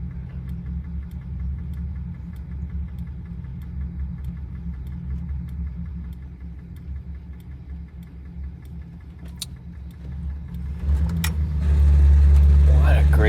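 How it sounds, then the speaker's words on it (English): A 1961 Buick fitted with an Edelbrock carburetor idles in gear with a steady, low, loping rumble that swells louder near the end. "Let's sit here for a minute, let her idle in gear."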